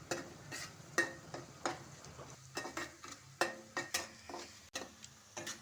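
Whole spices dropped into hot oil in a pot for a chicken curry, crackling and sizzling with a run of sharp stirring clicks and scrapes, close and steady, no talk.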